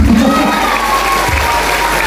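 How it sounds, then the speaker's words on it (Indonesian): Children at an Islamic school event for National Santri Day clap and cheer together as a crowd, a steady loud wash of applause with faint voices mixed in. "Ayo, tepuk tangan lebih dong."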